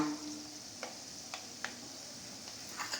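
Mustard seeds crackle in hot groundnut oil, a steady quiet sizzle broken by sparse sharp pops at irregular intervals, close and low in level.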